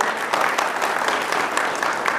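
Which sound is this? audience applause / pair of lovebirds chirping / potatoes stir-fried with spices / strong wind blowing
audience applause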